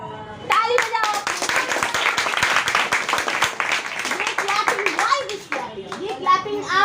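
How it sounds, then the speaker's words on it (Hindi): A classroom of children claps their hands together in a fast, lively burst of applause, with kids' voices mixed in and an adult speaking as the clapping tapers off. "ये क्लैपिंग आप सबके लिए है।"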